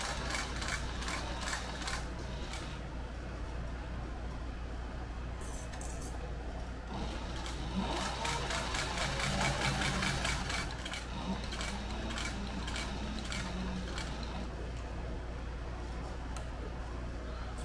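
A sewing machine stitches a leather sling bag with an edge presser foot, running in a steady, continuous mechanical chatter that swells slightly in the middle, with light clicks over the top.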